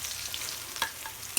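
Crushed kumro bori, dried lentil dumplings, frying in hot oil in a kadai with onion and garlic, a steady close sizzle broken by a couple of soft stirring scrapes.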